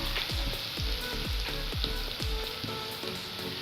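Garlic fries in a pan for paratha filling, a close, continuous sizzle and crackle with a series of regular low thumps running through it, fairly quiet and free of speech.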